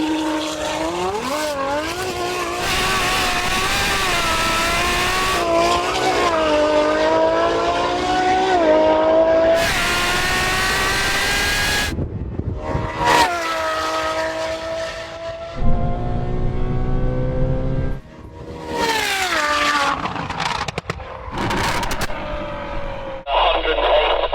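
Straight-piped Ferrari V12 supercar passing, loud rising and falling engine revs with sweeping pitch changes, several bursts of acceleration, close by, with a voice speaking over it.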